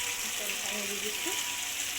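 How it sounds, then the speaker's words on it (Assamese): Water poured into a hot pan of frying local chicken with rice flour and curd, giving a steady close sizzle and bubbling hiss that stays loud throughout. "পানী দি দিছোঁ।"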